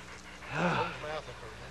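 Hunting dogs fighting a wild boar in Texas, heard as a brief burst of yelping and panting that swells then fades, mixed with nearby human voices.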